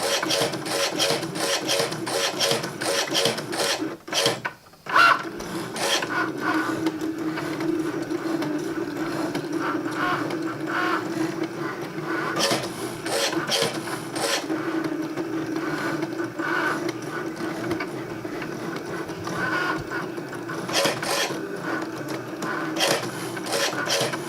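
A Maker Machine cutting felt makes a steady, rasping mechanical whir with rhythmic scraping and clicking. A brief pause near the start interrupts the loud, continuous noise before it resumes unchanged.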